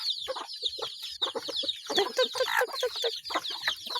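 Native chickens cluck and chatter while being fed, a hen with her chicks among them, giving a close, continuous stream of short, choppy clucks and some higher peeps.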